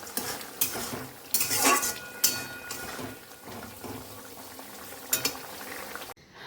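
Lentil fritters (dal bara) frying in a pan, a soft sizzle mostly buried under repeated clinks and scrapes of a metal utensil against cookware, close by with no talk.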